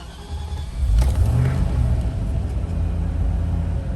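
A Land Rover Discovery 3 with a petrol V8 fires up, its starter giving way to a deep rising rumble that settles into a steady, close low idle.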